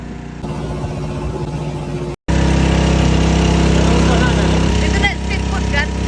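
A speedboat engine runs steadily at close range on a lake outing, a loud continuous drone filling the whole clip with a brief cut midway, while voices talk over it.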